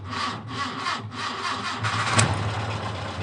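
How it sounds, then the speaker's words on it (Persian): A car engine is started with a selector switch: the starter cranks in rapid pulses for about two seconds, then the engine catches with a louder burst and settles into a steady mid-pitched idle. "و ماشین به همین راحتی روشن میشه"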